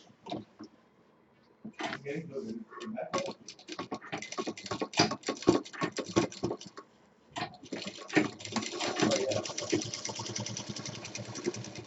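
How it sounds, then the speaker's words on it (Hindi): Sewing machine running a double line of stitching on a handbag, with bursts of rapid mechanical ticking that start, pause and resume, and a steadier whirring run toward the end; a person speaks intermittently over the machine. "यहाँ पे डबल सिलाई चलाएंगे इस तरह से"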